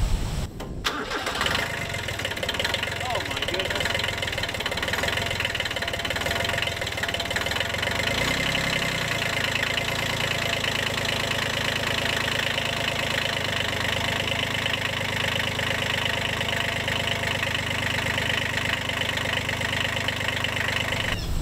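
An old tractor engine cranks and catches, then settles into a steady, loud, chugging idle that runs on without a break.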